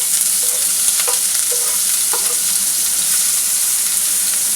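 Chopped onion and finely cut garlic sautéing in two spoons of hot oil for pizza sauce, a steady loud sizzle throughout with occasional soft stirring clicks.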